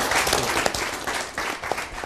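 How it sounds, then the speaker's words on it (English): An audience on a talk show claps together in a short, dense burst of applause that holds steady for about two seconds, with no talk over it. "Let's clap for her."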